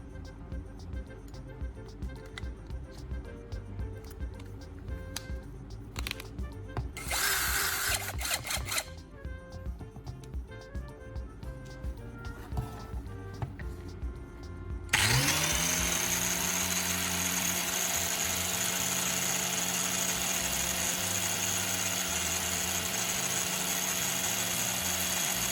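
A power drill starts up and spins steadily with a high whine and grinding hiss, grinding down spark plug threads, preceded by quieter workshop clatter and a brief burst of noise.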